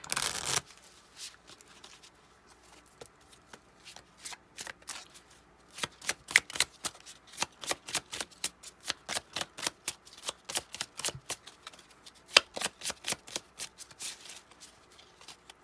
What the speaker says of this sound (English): let's get a message from this deck that I haven't used in a while. My Jane Austen cards